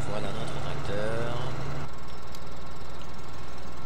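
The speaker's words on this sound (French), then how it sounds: "Voilà notre tracteur." A tractor engine idles in a farming video game, a steady low rumble that runs throughout, partly under a man's speech, and shifts tone partway through.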